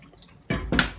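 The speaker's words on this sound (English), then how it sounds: "We take it over to the sink and we have our sieve, and we pour it all through" A rollmop herring mix in a jug is poured through a sieve at a kitchen sink, two splashing gushes of liquid hitting the sink close by, the second brighter and louder, after a quiet moment.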